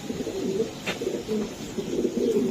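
A pigeon, one of a farmer's racer and fancy birds, gives soft, low repeated coos up close while being held and examined, with a brief rustle midway.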